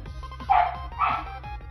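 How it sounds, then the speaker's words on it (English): Two sharp dog barks ring out about half a second apart, fairly close, over a low steady background hum. "And there goes my dog."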